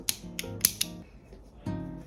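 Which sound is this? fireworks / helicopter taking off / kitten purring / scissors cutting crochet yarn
scissors cutting crochet yarn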